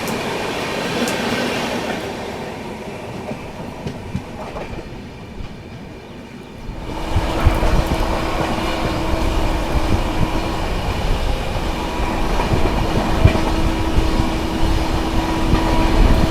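Another train overtaking from alongside the Shiv Ganga Superfast Express 12559 on its run from Banaras to New Delhi, a loud, steady rumble of rolling rail cars that swells after a quieter stretch and keeps roaring with faint clatter and squeal, with no talk.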